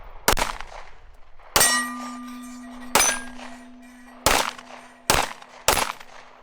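Pistol shots strike a small steel target at a range: six sharp cracks at irregular spacing, most followed by a ringing metallic clang that hangs and fades, with quiet gaps between.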